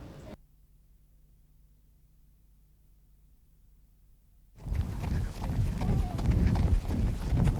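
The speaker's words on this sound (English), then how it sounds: "you want to get in time with the rhythm of the horse's feet" Horse hooves clip-clop at a steady rhythm during a riding lesson, loud and close after a quiet opening, with ongoing rustle and movement.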